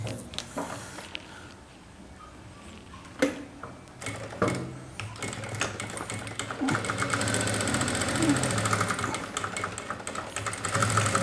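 Sewing machine running steadily while double stitching a saree blouse cup, a dense mechanical whir with a few sharp clicks and starts, rising slightly louder in the second half, with no talking.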